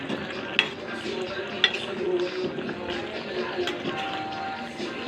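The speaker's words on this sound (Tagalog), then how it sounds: "kumukulo na talaga siya" A pot of jackfruit syrup bubbles and simmers steadily, with a soft continuous burble and a couple of sharp utensil clinks against the pot.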